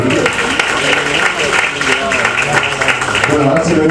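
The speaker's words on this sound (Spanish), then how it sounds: "un aplauso para Chinique." Audience applause at a rhythm and poetry tribute event, moderate clapping mixed with crowd murmur and some voices, fairly loud and close throughout.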